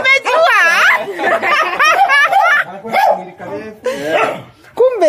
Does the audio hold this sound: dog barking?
yes